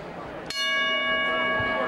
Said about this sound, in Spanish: Suena la campana entonces.